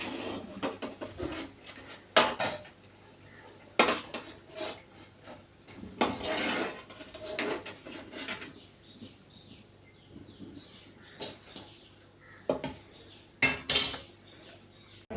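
Fried bajji lifted from hot oil into a metal vessel, with repeated clinks and scrapes of a ladle against pots at close range, in irregular bursts with quiet gaps between.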